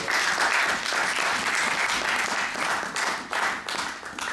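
A church congregation breaks into loud, sustained applause, dense clapping from many hands close by that swells and fades slightly over a few seconds without talk.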